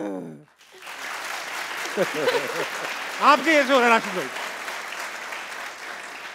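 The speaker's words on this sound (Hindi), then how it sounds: "जरा तालियां बजाएं।" A studio audience on a Pakistani cricket talk show claps in a soft, steady patter that runs beneath several people talking.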